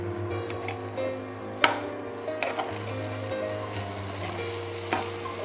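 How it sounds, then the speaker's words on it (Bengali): Vegetables and chicken frying in a pan for mixed fried rice, a steady close sizzle with a few sharp clinks and stirring scrapes of a spatula, no voices. "ভালো করে এটা আমি একটু ভাজা ভাজা করে নেব।"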